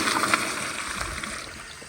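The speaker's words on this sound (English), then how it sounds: "Now if I flush it again, it'll have a lot more powerful of a swirl." A second flush of a 2008 American Standard Madera toilet, set at 1.28 gallons, gives a continuous close rush and swirl of water with light gurgles, fairly steady throughout.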